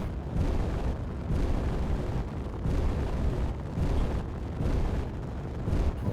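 Missile explosions in Space Engineers: a rumbling series of deep blasts, roughly five or six heavy booms rolling one after another at even intervals, loud and sustained with no talk over them.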